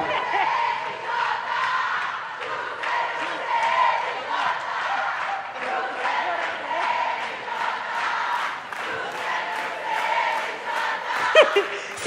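Organized supporters at a church youth event cheering and chanting in rhythmic bursts, a large crowd shouting together at steady volume with a few sharp peaks near the end.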